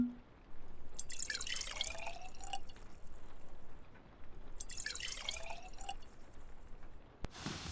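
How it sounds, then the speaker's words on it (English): Liquor poured out twice in a quiet room, each pour a bright trickling burst with dripping and a faint glugging rise, separated by a short pause and ending in a small clink. "let me pour us both a drink"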